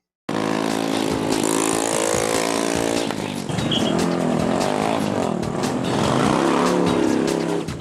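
A loud motorcycle engine roars and revs up and down continuously, close and dominant throughout, with rising and falling pitch.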